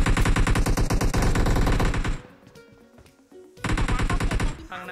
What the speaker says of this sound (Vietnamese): Thằng nào vừa bắn đấy?